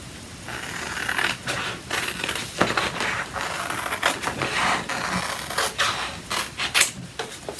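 Scissors snip apart Chalk Couture transfer letters in a quiet room, a string of short, close, crisp cuts and papery crunches at an uneven rhythm.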